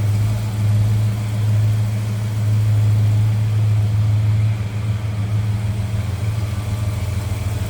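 A 318 V8 in a 1954 Dodge half-ton pickup fitted with a Holley 4-barrel idles smoothly and close by. A low steady rumble holds throughout, dipping slightly near the end, with no talk.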